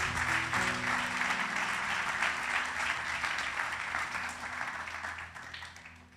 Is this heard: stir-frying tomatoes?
no